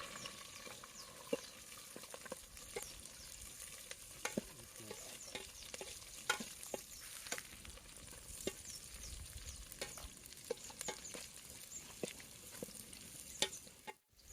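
Chilies and onions fry and sizzle steadily in a pan for a gizzard gravy, with a constant close hiss, periodic stirring scrapes and small crackles throughout, no voices.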